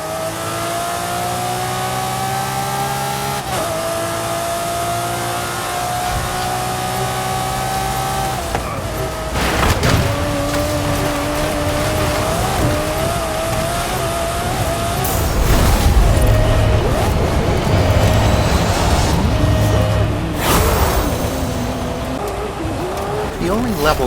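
A racing car engine in a racing video game drones steadily throughout, with rising revs, tire squeal and skids over rough ground, continuous and loud beneath ongoing talk.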